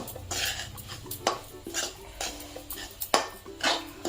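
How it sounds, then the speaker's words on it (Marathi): Semolina roasting in ghee in a pan is stirred with a metal spoon, giving repeated scraping swishes and sharp clinks against the pan at an irregular rhythm, close by and moderately quiet. "रवा आपला चांगला मस्त असा फुलला पाहिजे चांगला भाजला ना की छानसा फुलतो"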